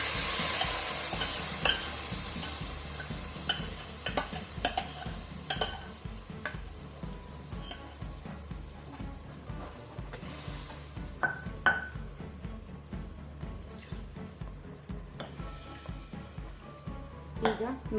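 Onions and masala paste fry and get stirred in a pan over a low flame while cooking country chicken sukka, with a soft sizzle under frequent clinking, scraping stirs that tap against the metal throughout.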